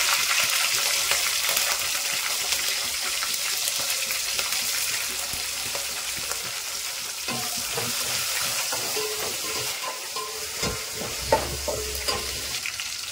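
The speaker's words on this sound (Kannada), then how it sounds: "ಇವಾಗ ಹಸಿಮೆಣಸಿನಕಾಯಿ ಎಲ್ಲ ಹಾಕಿದಾಯ್ತು, ಸ್ವಲ್ಪ ಫ್ರೈ ಮಾಡಿದ್ದೀನಿ" Green chillies frying in a pan for moong dal sambar sizzle steadily up close, with repeated scraping and clattering of a spatula as they are stirred, and no talking.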